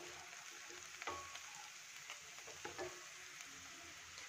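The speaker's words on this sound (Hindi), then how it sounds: "प्याज भून रहा है धीरे धीरे।" Onions frying slowly in a pan for a pea and mushroom masala, a soft, steady sizzle and crackle with occasional light pops, close and quiet, no talking.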